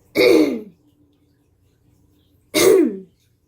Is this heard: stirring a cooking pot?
no